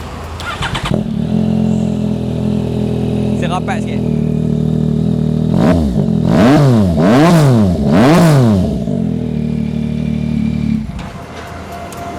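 Four-cylinder motorcycle fitted with an aftermarket exhaust, a Kawasaki Z900RS or Yamaha MT-09, idles with a deep rumble, then gets three sharp throttle blips that rise and fall close by, settling back to idle; someone speaks briefly near the start.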